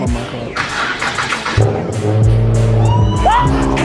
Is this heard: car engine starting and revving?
yes